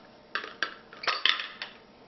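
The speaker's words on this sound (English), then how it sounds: "The bottom screws off, and this is where, with any blender, you have to be very careful" The glass jar of a Cuisinart SPB-600 SmartPower Deluxe die-cast blender gives a string of sharp clinks and scrapes as its base is unscrewed, loud and close, with no talking.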